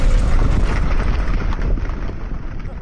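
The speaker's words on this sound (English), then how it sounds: "Okay, the explosion just took out his hand." A loud, sustained rumbling blast from an explosion near a reactor in a video game, broadband and roaring throughout with a gradually fading tail.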